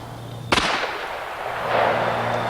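A single sharp handgun shot cracks out close by, followed by a rolling outdoor echo and a faint rumble fading over the next two seconds.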